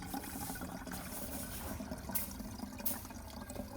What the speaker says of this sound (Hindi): अभी ये जो नीचे वाला हिस्सा है इसमें डालेंगे पानी